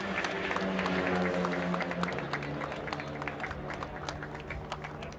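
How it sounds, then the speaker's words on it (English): A crowd applauds riders at a DSBK National Championship motorbike race, a dense, steady wash of clapping with a low tonal hum running underneath. "Let's hear another round of applause for our modified riders."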